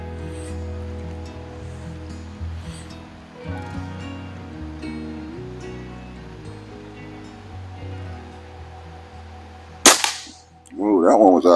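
A single sharp crack from a Hatsan Model 95 air rifle firing at 25 yards, heard near the end after a quiet stretch of low outdoor background, followed by a brief burst of louder noise.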